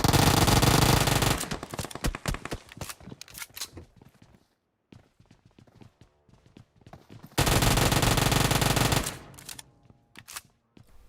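Uzi fire in the PUBG Mobile video game comes as two dense, loud bursts of rapid automatic shots. Scattered single cracks and clatter fill the gap between the bursts.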